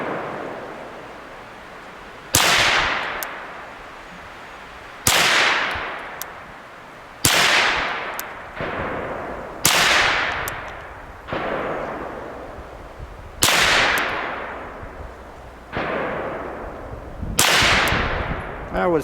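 Eight sharp gunshots from a Ruger PC Carbine fired slowly off-hand at 15 yards on a range, each a loud crack with a decaying tail, spaced roughly two to three seconds apart.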